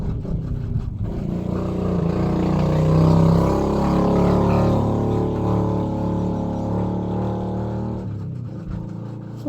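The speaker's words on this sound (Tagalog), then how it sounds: "Bati agis tingog sa motor." A motorcycle engine runs close by, a steady loud rumble that swells slightly midway and then eases, with no talk over it.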